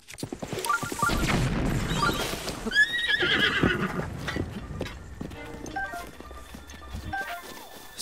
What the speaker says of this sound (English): at least I got this fucking horse right next to me